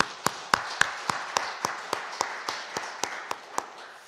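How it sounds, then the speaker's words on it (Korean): A congregation at a Wednesday church service claps in unison, crisp regular beats about four per second, loud and close, with a soft roomy wash between claps. "우리에게 하나님께 감사의 박수만 하십시다."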